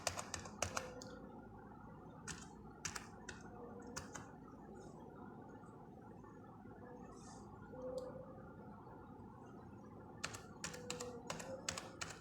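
Keystrokes on a computer keyboard during a basic computer practice lesson, scattered clicks and taps in short bursts over a low steady background hum, fairly faint and close.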